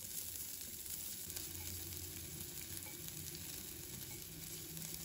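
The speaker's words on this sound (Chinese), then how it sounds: "把大蒜、红葱头放入锅中，把它们炒香" Garlic and shallots stir-fry in cooking oil in a clay casserole, a dense continuous sizzle that stays even and close throughout, with no voices.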